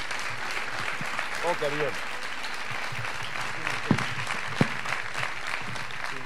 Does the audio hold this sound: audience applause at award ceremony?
yes